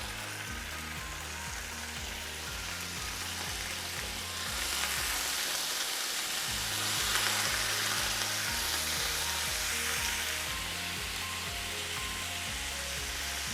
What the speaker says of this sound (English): So it's browning of the meat.